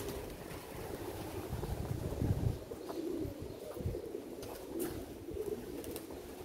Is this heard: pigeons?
yes